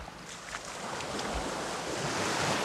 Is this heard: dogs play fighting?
no